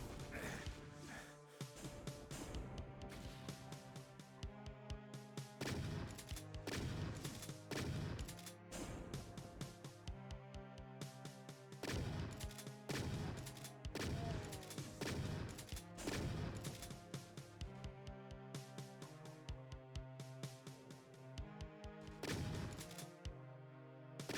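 Chaingunner fire in Doom 2 TNT: Evilution, dense rapid bursts of gunfire repeating through the stretch, mixed with other shots and impacts over continuous game music, with no talk.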